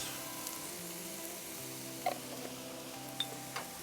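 Fried rice with vegetables sizzles on a Blackstone griddle, a steady close crackle broken by a few sharp metallic clicks of a spatula.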